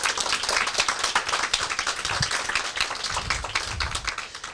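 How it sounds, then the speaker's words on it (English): A modest crowd at a Pride press conference applauds, many separate claps crackling close together in a steady, lively patter that holds throughout. "Can we please give her a round of applause?"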